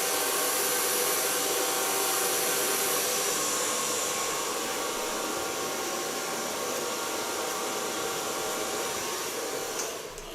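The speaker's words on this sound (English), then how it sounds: "Now, so far blow drying." A hair dryer blows on short hair during a styling session, a loud, steady, close whooshing roar that continues unbroken and dips only at the very end.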